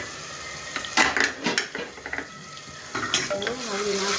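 Cumin seeds and crushed garlic hit hot oil in a pan, giving short bursts of sizzling mixed with clinks of a spoon against the pot, coming in uneven spurts with quieter gaps between them.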